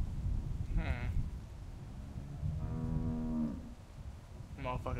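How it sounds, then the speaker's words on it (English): A cow moos twice, a long low drawn-out call in the middle with a shorter one near the start, and another beginning at the end, fairly close. "cow mooing"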